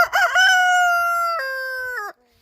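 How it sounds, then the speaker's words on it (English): A blind chicken, a rooster, gives one loud, close cock-a-doodle-doo, a strong harmonic crow lasting about two seconds and ending abruptly, heard alone. "Oh, no, he's going to crow."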